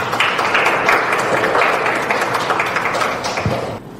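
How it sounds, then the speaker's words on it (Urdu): Audience applause at a Radio Kuwait Ramadan prize-giving ceremony, a dense, steady wash of many hands clapping that holds for several seconds before dropping away at the end. "ایک دفعہ تالیاں آپ اپنے لیے بجا لیں"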